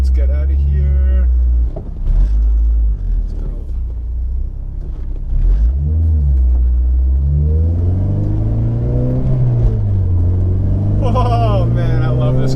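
A manual Acura RSX Type-S with a short shifter is driven and shifted through gears, its engine droning loudly and rising and falling in pitch, while a person talks over it throughout.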